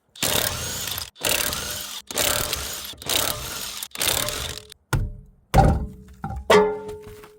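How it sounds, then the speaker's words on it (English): A tool spinning off the wheel lug nuts of a Honda CR-V using a 19 mm socket, giving five steady, loud mechanical bursts, then a few shorter clunks and the clink of metal parts. "Remove your wheel lug nuts with a 19 millimeter."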